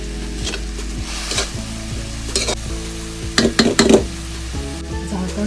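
Fenugreek leaves and a small tomato stirred and fried in a pan, a close, steady sizzle broken by scraping strokes of the spoon and a few louder clattering stirs near the middle.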